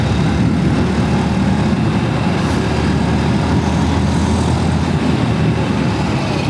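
A Yamaha FZ-X base variant motorcycle being ridden on a road, with steady, continuous engine and road rumble throughout, loud and close with no pauses.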